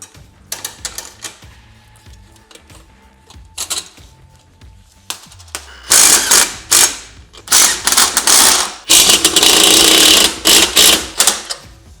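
A ratchet tightens a lock nut onto a carriage bolt while a Vantech conduit carrier is strapped down. It begins with scattered light metallic clicks, then loud, close, rapid ratcheting in bursts.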